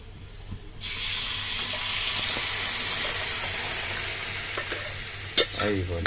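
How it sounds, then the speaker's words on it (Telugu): Tempering spices hit hot oil and burst into a sudden, loud sizzle that continues steadily, with small crackles and a few clinks near the end. "తాలింపు"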